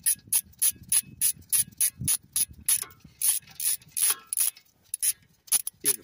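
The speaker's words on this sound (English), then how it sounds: "I have an 18 millimeter socket, short socket, and a 3/8 ratchet, and I'm taking the bolts out" A 3/8 ratchet with a short 18 mm socket backs out the rear bolts of a Ram 1500 front wheel hub, giving a fast, loud run of sharp clicking pawl strokes up close, steady and rhythmic, with no talk.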